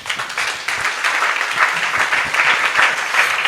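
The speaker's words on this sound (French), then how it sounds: "On peut applaudir bien fort." An audience at a question-and-answer session applauds steadily, a close, continuous wash of many hands clapping for a few seconds.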